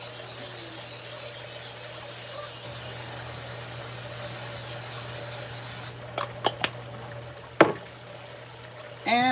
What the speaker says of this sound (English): Now I am going to spray this really good with the Pam Ultimate.